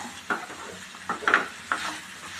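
Soft sizzling in a pan with a few brief stirring scrapes and clinks scattered across, quiet and close.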